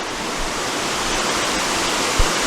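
A waterfall in the Philippines roars as a steady, broad rush of falling water, loud and unbroken throughout, with no voices.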